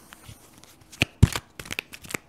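Lenormand fortune-telling cards are shuffled and laid down on a table, close and clear, with sharp riffles, slaps and shuffling rustles in short uneven bursts, and a voice is faint in the background.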